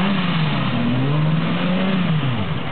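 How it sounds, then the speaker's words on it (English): An S1000RR motorcycle engine revs up and down close by, its pitch rising and falling steadily over a few seconds. "Is that a motorcycle?"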